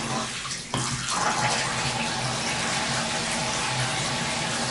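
Water gushes from a shower turned on in an apartment bathroom, a steady close hiss that starts after a brief quieter moment and continues alone.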